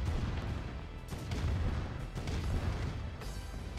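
Tanks and cannon turrets fire in a Command & Conquer: Red Alert battle, with repeated muffled booms and thuds landing over a rumbling bed of battlefield noise, several shots in quick irregular succession.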